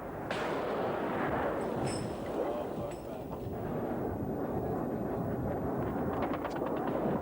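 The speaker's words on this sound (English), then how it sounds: "Flak narrowly misses a swooping Su-25." Anti-aircraft flak fire aimed at a swooping Su-25 jet during the Soviet war in Afghanistan: a dense, continuous roar of rumbling blasts and crackling bursts, with a narrating voice over it.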